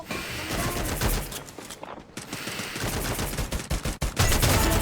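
Gunfire in the Free Fire battle royale game: loud, dense bursts of rapid automatic shots crackling almost continuously, with a brief lull before the firing resumes even harder at the end.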